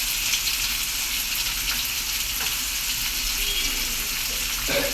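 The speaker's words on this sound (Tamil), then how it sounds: "வெங்காயம், கருவேப்பிலை, கடுகு ஊற்றி வதக்கிட்டு இருக்கோம்ப்பா" Onion, curry leaves and mustard seeds fry in a pan for a Tamil green mochai kara kuzhambu, giving a steady, close, loud sizzle with broadband crackle throughout and no speech over it.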